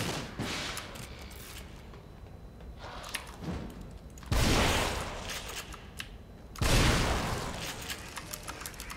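Gunfire in the horror game The Evil Within: bursts of shots and booming blasts crack out at intervals over a rumbling, tense background, two heavy loud impacts standing out.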